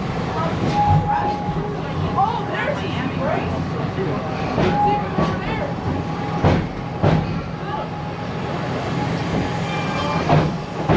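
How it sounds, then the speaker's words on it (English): A tour train rolls steadily through a zoo's savanna exhibit with continuous rumble, rattling and periodic clanks, fairly loud and close, as if heard from aboard. "our train is now crossing over from the southern portion of our Serengeti Veldt"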